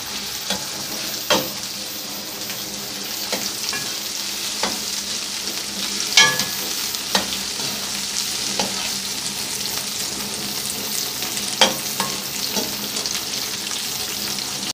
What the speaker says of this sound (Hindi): तकरीबन इसको 10 मिनट आपने फ्राई करना है